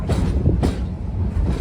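The Serengeti train at Busch Gardens Tampa Bay rolling along the rails with a loud, steady low rumble and a couple of sharp clacks from the wheels, heard close up.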